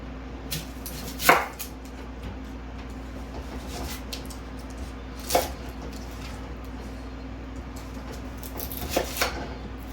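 Knife chopping strong onions for a canned beef bone stock, heard as a few sharp, separate chops spaced across the stretch over a steady low kitchen hum, with no talk.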